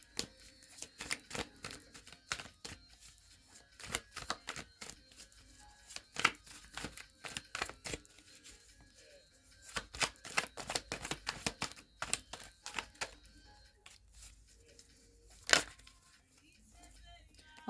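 Tarot cards shuffled and drawn by hand, a quiet close run of papery riffles, snaps and slaps in irregular bursts, with a few sharper flicks standing out.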